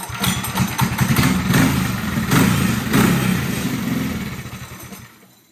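A go-kart motor cranks and catches, then runs loud and close with an uneven, pulsing idle for several seconds before cutting off abruptly.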